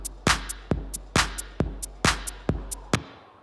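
Full electronic drum pattern of kick drum, maracas and clap, looping in a steady four-beat rhythm at close range, with sharp repeated hits and no talking.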